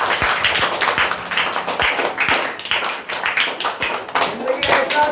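An audience clapping at a motivational speech, rapid sharp handclaps in a loose rhythm, close and loud, continuing for about five seconds over a busy crowd murmur.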